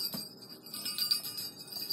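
A homemade jingle bell begleri jingles, with small bells tinkling in quick, bright, shimmering bursts that stay close and continuous for about two seconds, with no talk.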